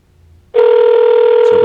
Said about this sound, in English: So we've got the phone ringing.